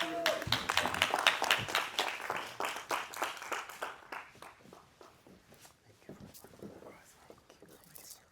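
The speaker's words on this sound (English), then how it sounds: "So please give a round of applause for Brian Gordon." Audience applause at a conference keynote, loud dense clapping at first that thins and fades over several seconds into scattered claps and faint murmuring.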